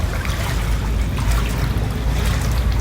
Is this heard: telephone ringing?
no